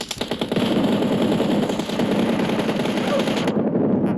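Rapid automatic gunfire in the mobile game PUBG Mobile, a loud close burst of fast shots running continuously for about three and a half seconds before cutting off sharply.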